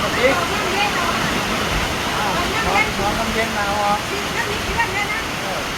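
Heavy rain pours down steadily in a broad, continuous wash, close and loud throughout, with faint voices in the background.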